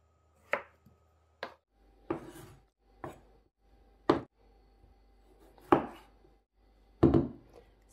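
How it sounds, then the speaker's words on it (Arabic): A knife chops through a small cucumber for a mixed salad, about seven sharp, distinct board taps spaced irregularly roughly a second apart, close and clear in a quiet kitchen. "هنا عندي لي غادي نقص هذا الخيار كونكومبر صغير"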